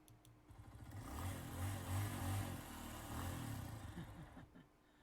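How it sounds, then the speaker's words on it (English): Motorcycle sound effect from a Filmora X editing library: a low engine rumble that revs up and holds steady, then fades out after several seconds, faint and with no talk. "That's a motorcycle."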